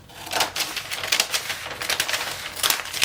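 Fabric being cut with scissors while making 1860s underwear, heard as a quick run of crisp snipping clicks close by with no voices.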